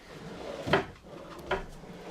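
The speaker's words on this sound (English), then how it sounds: "And then you've got this pull-out garbage with the extra little drawer." A pull-out garbage drawer in a camper kitchen slides and knocks shut, with three quiet wooden thuds spaced apart in a hushed interior.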